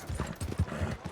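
A horse in the Red Dead Redemption 2 game clip-clops in a quick, soft run of low hoof thuds, faint and even, with no clear whinny.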